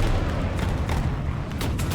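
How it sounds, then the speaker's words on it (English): Rapid autocannon fire in War Thunder pounds a T-80UD tank from the front, dense booming bursts over a constant low engine rumble, loud and continuous with no talk. "And an auto cannon is firing on me from the front."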